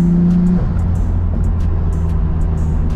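A turbocharged Nissan Skyline R32 GTR engine drones steadily up close while faint turbo boost hisses and whooshes flutter above it.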